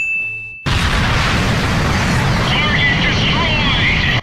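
Massive explosion erupting abruptly after a brief tone, then a sustained loud roaring rumble with jet-engine whine layered in, as a fighter flies away in Ace Combat 04.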